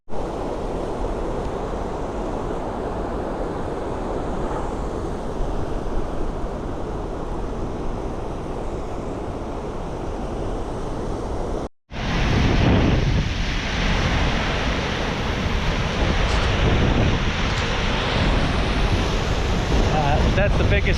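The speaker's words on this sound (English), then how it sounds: "That's the biggest waterfall we have in our state." A large waterfall roars continuously, with steady broadband rushing water and heavy wind buffeting the microphone throughout, briefly cutting out about midway before resuming just as loud.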